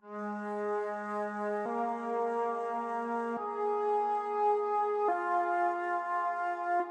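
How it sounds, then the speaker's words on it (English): A slow, sustained UK drill beat melody of long held notes in a breathy, flute-like tone, changing pitch every couple of seconds, with a smooth reverberant tail and no voices. "I really liked how the flute melody ended up sounding"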